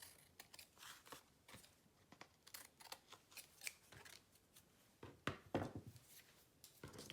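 Paper being trimmed with scissors while making ephemera and a postcard, a run of close, crisp snips and slicing cuts in uneven bursts with small handling rustles between.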